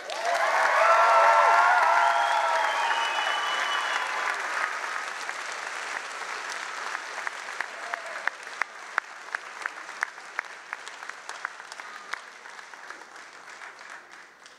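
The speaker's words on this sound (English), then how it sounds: "Please, one more round of applause for our three student speakers" Applause rises at a high school graduation ceremony for the student speakers. A large crowd claps loud and dense at first, then fades over about fifteen seconds into thinner, scattered claps.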